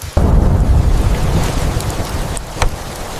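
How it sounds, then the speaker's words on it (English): A loud, sudden thunderclap breaks over a heavy nighttime rainstorm, then rumbles on beneath steady, dense rain with a second, smaller crack near the end; no one speaks. "That thunder was loud."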